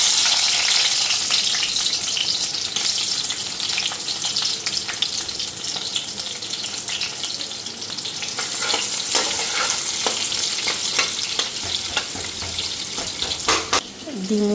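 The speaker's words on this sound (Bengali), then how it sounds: "পেঁয়াজটা দিয়ে নিই এখন" Onions fry loudly in a hot pan, a dense, close sizzle that stays strong throughout, with occasional scraping and tapping of a spoon or spatula.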